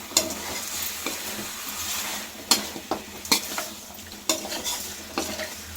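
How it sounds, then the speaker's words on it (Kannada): Salted chicken chops fry in a pan at home and are stirred, with sharp spoon scrapes and clacks over a soft, steady sizzle. The strokes come irregularly and close by, with no talking. "ಇದನ್ನು ಒಂದು ಸತಿ ತಿರುಗಿಸ್ಕೊಂಬಿಡೋಣ"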